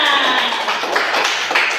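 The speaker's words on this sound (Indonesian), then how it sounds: "Tepuk tangan." Classroom clapping by pupils after a teacher's prompt, a brief, close burst of loud, bright hand claps filling the room.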